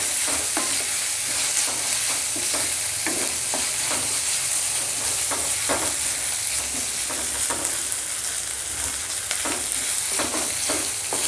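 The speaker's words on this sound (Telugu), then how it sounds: "బాగా కలుపుకోండి. పచ్చివాసన పోయేంత వరకు కలుపుకోవాలి." Masala being stirred and fried in a pan for a Boti charu curry: steady close sizzle with repeated scraping strokes of a spoon at an even rhythm, alone without voices.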